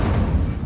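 Incendio fire spell cast in Hogwarts Legacy: a single loud, heavy burst with a deep booming, crackling body that quickly fades away, heard alone without speech.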